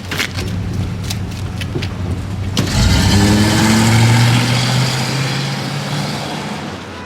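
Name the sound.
period car engine starting and idling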